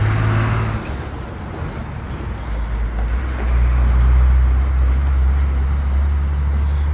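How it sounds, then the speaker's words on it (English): A truck rumbles past on a city street, a loud low drone that swells toward the middle and stays heavy as it goes by, close to the listener. "let me let this truck go by"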